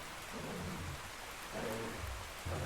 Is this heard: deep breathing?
no